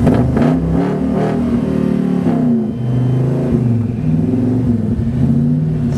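A carburetted car engine, primed with a thimbleful of fuel on a hot cold start, catches and runs, revving up and down in steady mid-pitched surges that stay loud and close for several seconds.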